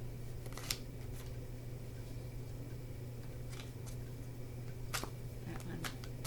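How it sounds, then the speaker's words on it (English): Tarot cards are shuffled by hand in repeated soft riffling bursts, faint and close, over a steady low background hum. "I'm shuffling here"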